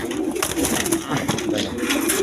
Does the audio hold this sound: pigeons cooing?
yes